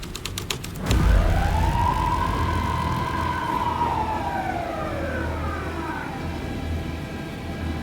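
A police car siren in the video game Alan Wake 2 wails in a single rising and falling sweep, loud and close over a low rumbling background.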